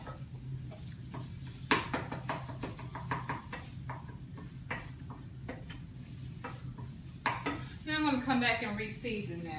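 Meatloaf ingredients sizzling and caramelizing in a hot pan on the stove, a steady frying hiss with scattered stirring clicks and utensil taps, while a person talks over it.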